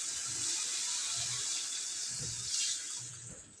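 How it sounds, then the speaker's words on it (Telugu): Water pouring steadily into a pot with a bright, continuous splashing hiss, faint murmuring voices low underneath. "నాకు తగినన్ని నీళ్ళు పోసేస్తా"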